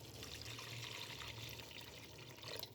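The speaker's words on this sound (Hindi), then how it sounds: "दही डालने के बाद मैं इसमें डाल दूँगी पानी" Water poured into a cooking pot of beef pulao after yogurt has been added, a quiet steady splashing trickle lasting a few seconds with no voices.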